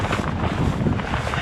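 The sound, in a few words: southwesterly wind gusting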